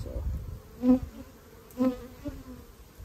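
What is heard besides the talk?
honey bees in an opened hive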